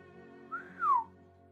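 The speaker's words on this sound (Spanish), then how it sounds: "Hagen emitió un ligero silbido" A light, impressed whistle: a short rising tone that slides up and then down in a quiet descending glide, brief and soft against a faint hum.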